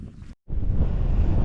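Wind gusts across an exposed, cold, wet Northumberland hilltop, buffeting the microphone with a loud, continuous rumbling roar that cuts out for a split second before resuming.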